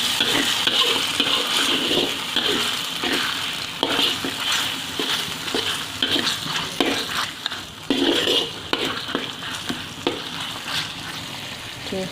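Tempeh and potatoes with soy sauce stir-frying in a pan, with loud continuous sizzling and rhythmic scraping and clanking of a utensil against the pan, close and without speech.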